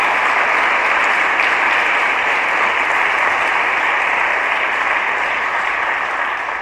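An audience applauds Giorgio Prada at an education-week talk, a dense, loud, sustained wash of clapping that continues evenly before tapering slightly at the end.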